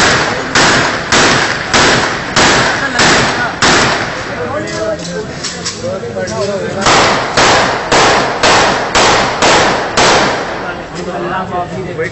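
Repeater gun firing at a wedding in Rawalpindi: loud, sharp shots in rapid rhythmic bursts, a regular series, a pause with crowd noise and voices, then another run of evenly spaced blasts.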